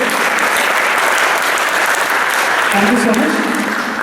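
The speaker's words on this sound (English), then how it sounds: "Please give a big round of applause to all the students who participated." Loud, sustained audience applause for students after a school debate competition, with a voice speaking briefly over the dense clapping toward the end.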